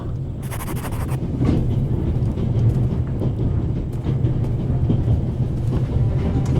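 Steam train in a horror video game, a deep low rumble of the running engine with rhythmic clattering of wheels over track and a brief bright hiss near the start, steady and close.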